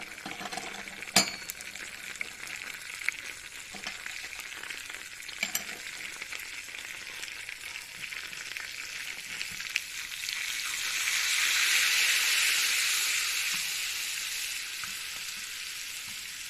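Mint and chili powder hit heated fat for a Turkish zucchini soup, giving a steady close frying sizzle with a few clinks early on, then a louder hiss that swells midway; nobody speaks.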